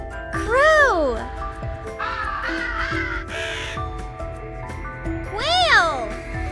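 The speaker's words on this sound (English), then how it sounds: "Crow." Harsh, raspy crow caws repeat in a rough rhythm, loud and near, with bright sweeping tones opening and closing over light background music.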